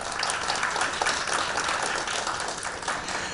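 Audience at a youth education forum applauding a presenter, a steady wash of many hands clapping, moderately loud and continuous throughout.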